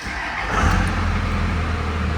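A Dodge Ram 3500 single-cab dually SLT Laramie 4x4 with a 5.9L HO engine and 6-speed manual fires up, its engine rumbling loud and close, swelling briefly, then settling into a steady idle.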